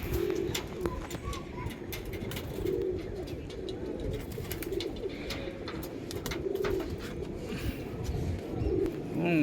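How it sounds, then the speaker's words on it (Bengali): Kalanka pigeons at a building loft coo over and over in a steady, rolling rhythm, several birds overlapping close by, with wing flutters and scattered chirps mixed in. "পায়রা আবার আসছে তাওয়ায়"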